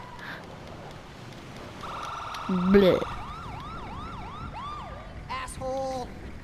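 An ambulance siren wails as it passes on the street, rising and falling in repeated sweeps from mid-distance, with a brief voice and street noise around it.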